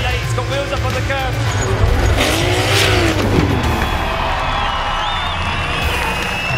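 Drift competition car launching into a late drift at a racetrack, engine revving with tire squeal and crowd noise, heard under a commentator's excited speech.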